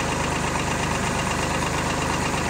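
A Kubota B2650 compact tractor's diesel engine runs at a steady idle while lifting a plow, a close, loud, continuous rumble with a rapid knocking pulse and no talk.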